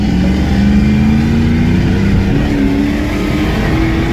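A Jeep Grand Cherokee WJ engine running on gas fuel while being tuned, a loud, close engine drone whose pitch slowly rises, with no voices over it.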